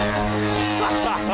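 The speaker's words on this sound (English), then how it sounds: "Watch my plane, Jace!" A gigantic radio-controlled propeller airplane in flight gives a brief, steady buzzing engine drone, fairly loud, with excited voices nearby.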